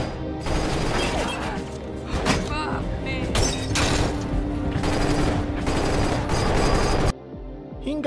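Rapid bursts of gunfire from a film shootout during a car chase, loud and sustained in dense volleys with heavy impacts, cutting off abruptly near the end while a narrator speaks over the action.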